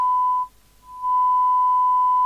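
A steady test tone sounds from a DNT Transit 40 UK FM CB radio receiving an S9-level 100 microvolt signal during alignment, loud and constant, dipping sharply quieter for about half a second before returning at full level.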